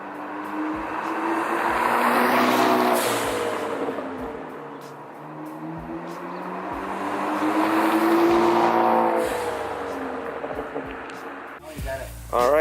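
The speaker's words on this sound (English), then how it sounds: "so that was the Borla exhaust" Borla catback exhaust on a 2013–2016 Ford Focus ST, a steady engine drone that swells twice as the car accelerates, fairly loud and continuous, with a brief burst of other noise near the end.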